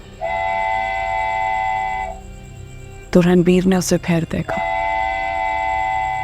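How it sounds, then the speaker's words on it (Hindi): A long train whistle blares as a steady tonal horn, breaks off while someone narrates in Hindi, then sounds again at the end over a low rolling rumble of a passing train. "जब सिटी की आवाज़ हवा में गूंज रही थी,"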